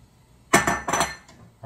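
Eggs are dropped one after another into a hot pan holding coconut oil and a little water, giving a few sharp, close clattering knocks over about a second, followed by a brief sizzle.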